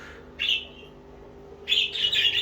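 A nearby bird chirps in two bursts, a short high call followed by a longer run of rapid, shrill chirps over quiet background hum.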